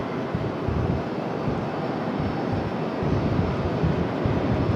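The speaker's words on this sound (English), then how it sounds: "Here comes our A321 back to Charlotte" An Airbus A321 departing Raleigh-Durham International Airport for Charlotte produces a steady, rumbling jet roar that swells slightly toward the end, with no talk.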